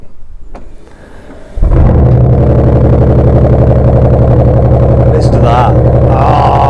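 A Bentley Flying Spur fires up after a quiet moment, its engine catching with a sudden loud burst and settling into a deep, steady idle rumble that continues to the end, while someone speaks over it.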